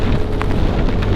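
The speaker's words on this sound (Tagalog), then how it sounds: "Oh, lakas ng lakas ng ulan tsaka hangin." Heavy rain with gusting wind during a motorcycle ride in the rain in the Philippines: a dense, steady wash of downpour and wind noise that runs without a break, loud and close, with no talk.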